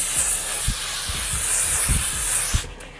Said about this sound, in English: I'm actually going to go in with the L'Oreal Infallible 3-second setting mist just to lock this